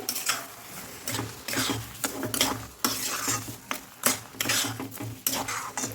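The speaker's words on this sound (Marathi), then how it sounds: "तर साखर टाकून पण आपण याच्यात मस्त मिक्स करून घेऊ" Sugar being stirred into grated fresh coconut in a pan, a spoon scraping and clinking against the metal in quick irregular strokes, with a faint sizzle underneath and no voices.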